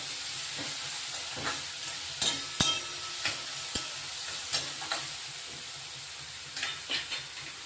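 Onions and tomatoes with a spoonful of salt cook in a pan for soup, giving a steady low sizzle broken by repeated scraping stir strokes of a utensil, close and moderately loud with no talking.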